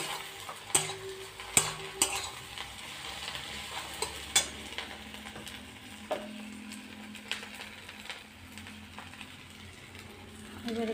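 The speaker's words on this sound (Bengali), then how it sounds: "এটা ভালো করে ভেজে নেব।" Fish roe frying in a pan with onion, garlic, ginger, tomato and spices: a soft sizzle under intermittent clinks and scrapes of a spoon stirring, fairly quiet and close, with no talk.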